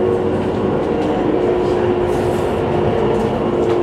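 Inside a moving passenger train, a loud constant rumble of wheels on track carries a steady tonal hum and faint rhythmic rattling, with no talking.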